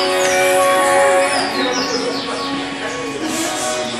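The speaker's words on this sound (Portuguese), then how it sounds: "Primeira do passarinho." Songbird singing at a bird song training tournament in Recife, close and loud, with continuous tonal phrases and quick sliding whistles running for several seconds over faint crowd noise.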